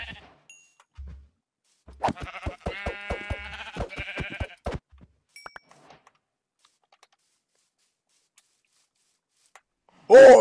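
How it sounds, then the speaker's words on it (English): Black sheep in Minecraft bleat in a rapid, buzzy burst of several pulses mid-clip, mixed with keyboard typing clicks and quiet gaps, ending in a sudden loud noise. "we got 2 black sheep here."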